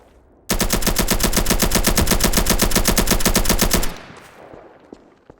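Rapid automatic gunfire in an online shooter game, a loud sustained burst of evenly spaced shots lasting about three and a half seconds, then cutting off into a fading tail and faint background noise.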